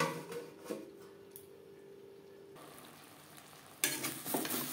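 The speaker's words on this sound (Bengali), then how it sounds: "মশলার সাথে মটরশুঁটিও কষিয়ে নেব।" Green peas and spices sizzle faintly in a pan for a broccoli dish, with soft stirring scrapes and a louder burst of frying near the end.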